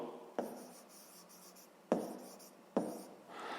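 A pen writes a fraction on paper during a sixth-grade maths lesson, a soft continuous scratching broken by three sharp taps as the pen strikes down.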